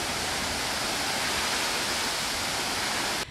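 Spray and mist from Cachoeira Alta, a 100-metre waterfall, make a dense, unbroken hiss of falling water, loud and even, cutting off abruptly at the end.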